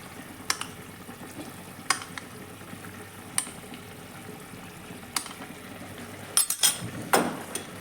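Chilli chicken gravy with fried chicken bubbling in a pan, a soft steady simmer broken by occasional sharp utensil taps and a short cluster of clinks near the end.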